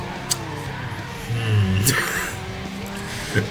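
A car in the Need for Speed Underground racing game skids under the handbrake, giving a loud close tire squeal over steady engine drone that fades after a couple of seconds.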